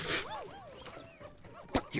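Dog from the video game Pikmin 4 giving short yips and whimpering whines, a quick run of pitched cries that ends in a sharp bark, heard alone without talk.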